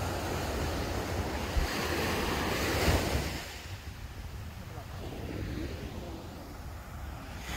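Surf rolls and washes onto a beach in Thailand with a broad roar, wind buffeting the microphone; the wave surge swells, then eases to a softer steady wash.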